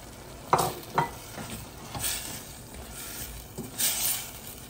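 Chopped bell pepper sizzles in a frying pan while being stirred, giving a steady crackling fry with several sharp scraping stir strokes close by.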